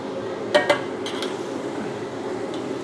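Chicken is stirred in a pan for sambal balado, giving a few sharp metal clinks from the utensil against the pan over a quiet background hiss, with no voices.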